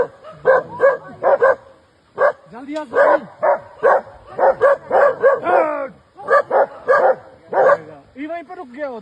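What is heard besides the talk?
dogs barking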